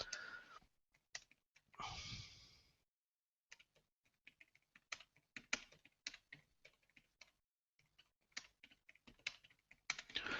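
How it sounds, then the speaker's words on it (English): Keys clatter in quick irregular bursts on a computer keyboard, close up, with short pauses between runs and a brief sigh near the start. "You can probably hear me typing"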